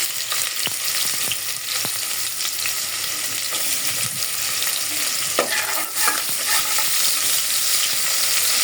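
Onions sizzle steadily in hot oil with spices in a cooking pot for egg khichuri, with a continuous close frying hiss and occasional scrapes of stirring.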